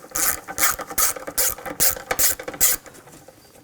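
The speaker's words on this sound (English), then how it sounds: "Using a 10mm socket, take these nuts off." A 10mm socket ratchet clicks steadily while backing off strut mount nuts on a 2000-2006 BMW X5, a rapid close-up pawl rattle in repeated strokes lasting about three seconds before easing off.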